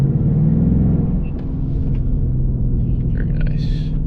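A 2026 Ford Mustang GT with a six-speed manual, its engine idling with a steady, close low rumble and slight swells in pitch but no strong rev climb.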